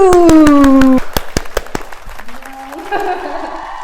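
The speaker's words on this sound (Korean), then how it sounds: "박수!" A classroom audience at a school essay-exam presentation claps in a quick, regular rhythm, with a loud voice over the first second before the clapping thins out.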